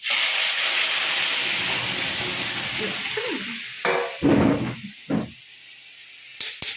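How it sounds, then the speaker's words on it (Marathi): Garlic and cumin tempering hisses and sizzles in hot oil during a traditional Bhogi khengat preparation, a loud steady frying hiss that fades partway, then a few clattering stirs and scrapes near the pan. "लसूण फोडणी देणार आहे"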